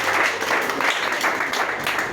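A church congregation applauds the Lord Jesus Christ with dense, steady clapping, loud and continuous through the whole stretch.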